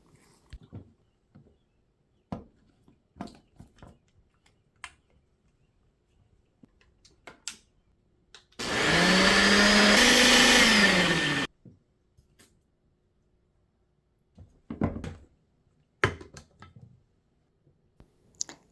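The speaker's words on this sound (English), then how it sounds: "Add the mango pieces to a blender with half a cup of milk and blend until smooth and creamy." An electric blender whirs for about three seconds while blending mango pieces with half a cup of milk, loud and steady, with sparse kitchen clicks and taps before and after.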